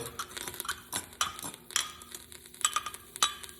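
Barbecue sauce ingredients, including apple cider vinegar, are stirred together in a bowl. Quiet, irregular clinks and scraping taps of a utensil sound close by.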